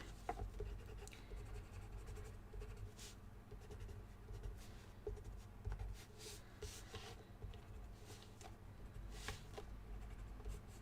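A colored pencil blender rubbed over absorbent paper to flatten scribbled color, a close, soft continuous scratching with faint strokes throughout, no talk.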